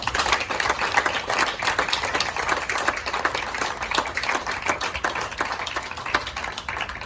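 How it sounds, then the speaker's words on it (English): An audience at a recognition ceremony for a Citizen Lifesaver Award claps steadily, a moderately loud, even patter of many hands lasting the whole stretch with no talking. "So let's give them a round of applause."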